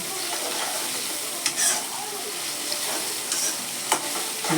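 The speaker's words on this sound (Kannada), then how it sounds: "ಆಲೂಗಡ್ಡೆ ಒಂಚೂರು ಎಣ್ಣೆಗೆ ಫ್ರೈ ಆದಂಗೆ ಆಗುತ್ತೆ ಅಂತ ಟೊಮೆಟೊ ಆಲೂಗಡ್ಡೆ ಎರಡು ಒಟ್ಟೆ ಹಾಕಿದ್ದೀನಿ" Tomatoes and potatoes frying together in oil in a pan, a steady close sizzle with a few soft stirring scrapes and clinks, no voices.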